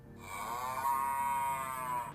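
A single cow gives one long, drawn-out moo lasting about two seconds, close and clear over a quiet background.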